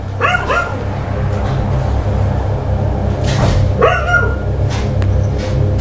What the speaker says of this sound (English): A dog can also be heard barking in the background